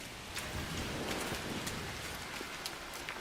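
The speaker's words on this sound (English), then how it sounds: "Incoming storm." Steady, dense storm rain from the video game No Man's Sky, a constant hiss of falling drops with a few sharper patters, heard alone at a moderate level throughout.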